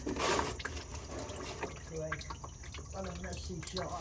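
Hot engine oil drains from the oil pan of a 2009 Lincoln MKS, a soft trickling stream with faint drips into a catch pan, fairly quiet and close, while someone talks over it.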